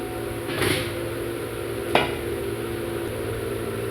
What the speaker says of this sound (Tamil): பொரியை இப்படி நல்லா வறுத்து கொடுத்துட்டே இருக்கும் கொஞ்சம் நேரம்